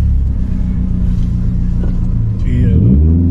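A lowered, slammed Daihatsu Terios revs up and pulls forward to climb a high curb. The engine rumbles loud and close, rising in pitch toward the end, with people talking over it.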